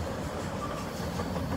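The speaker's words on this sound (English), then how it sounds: "Maybe this is a westbound train instead of a southbound train that I was assuming." A BNSF manifest freight train passes at Carkeek Park, giving a steady, broadband rumble of rolling cars that holds even and loud throughout, with no voices.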